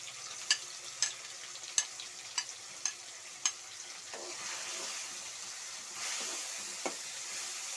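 Tomatoes with salt and turmeric frying in a kadai pan after the onions, a soft continuous sizzle punctuated by a series of sharp spoon taps and scrapes against the metal, fairly quiet and close, with no talking.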